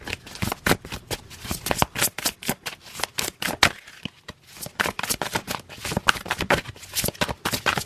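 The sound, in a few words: shuffling tarot cards before drawing one card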